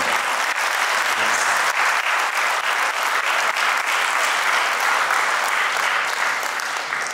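Sustained applause from a seated audience at a health product talk, many hands clapping in a loud, continuous rattle that holds level for several seconds.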